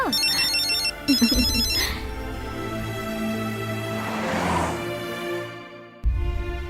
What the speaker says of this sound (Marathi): अरुणचा फोन आहे. हा, जा जा फोन घ्या, जा जा.